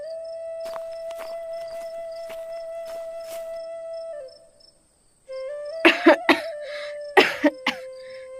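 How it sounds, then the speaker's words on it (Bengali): A cartoon character gives a series of harsh coughs, several sharp bursts in two clusters after a stretch of steady tonal music, loud and close. "আমার খুব কাশি হচ্ছে"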